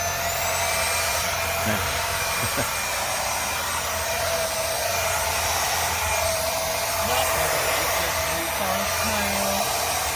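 A Bissell Big Green stick vacuum runs on its high setting, giving a steady, loud motor whine with a constant airy roar, unbroken for about ten seconds.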